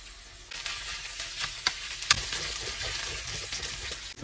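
Filipino sweet-style spaghetti sauce sautéing with tomato paste, a close steady sizzle with scraping stirs and a couple of sharp clacks of a spoon against the pan, with no talk.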